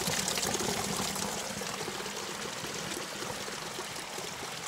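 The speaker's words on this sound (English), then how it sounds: "Lots of clear flowing water. And even 2 spigots to choose from." Clear spring water pours steadily from a spigot at Big Spring in Paria Canyon, making a continuous close splashing rush with no pauses.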